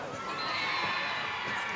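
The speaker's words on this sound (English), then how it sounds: "There's the cheer in your ears from the field next door where another epic game is ensuing." A crowd cheers and shouts from a neighbouring field at a women's over-60 hockey World Cup in Cape Town, a distant, continuous swell of voices lasting under two seconds.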